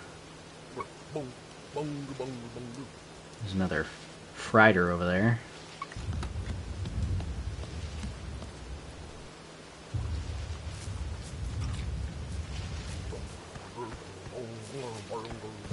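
Rain and rolling thunder in the video game Bugsnax, a steady broadband wash of rainfall arriving in two long stretches after someone speaks over a quieter ambient bed.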